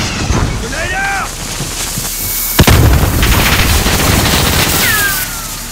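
A grenade blast from the Call of Duty: Modern Warfare game hits sharply midway, followed by a rumbling tail and scattered gunfire under in-game radio chatter.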